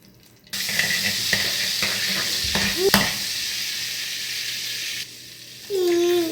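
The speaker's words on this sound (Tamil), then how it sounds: "பட்டர் ஆட் பண்ணியிருக்கேன் ரெண்டு பேக்கெட்" Two packets of butter melting in a hot pan after boiling spaghetti is drained, giving a loud, continuous close sizzle with a few clinks, then a brief quieter moment and a higher hiss at the end.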